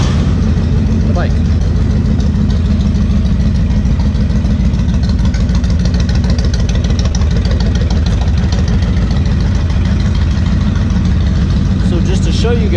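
A Honda VTX 1300 motorcycle engine idles with a loud, steady, low rumble that runs unbroken for the whole stretch, close up, with speech faintly mixed in.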